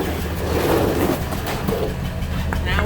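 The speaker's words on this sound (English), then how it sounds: "Now we got a little bit of exhaust flow coming out there. A little putt putt. You can hear it missing now." A Ford Super Duty engine idles with a misfire, a low uneven exhaust rumble that someone talks over close by.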